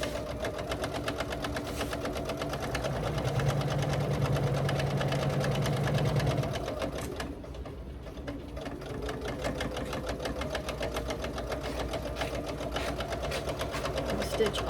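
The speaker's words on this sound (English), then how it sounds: "Stitch all the way across it, following that seam." A sewing machine stitches across a quilted seam, running steadily and close for the whole stretch with a brief dip in pace midway, while a person talks over it.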